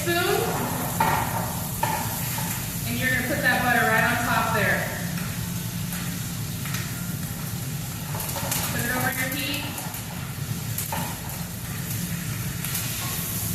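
Steak hits melting butter with fresh thyme in a hot pan, a soft steady sizzle and crackle running under someone talking throughout, with occasional utensil clatter.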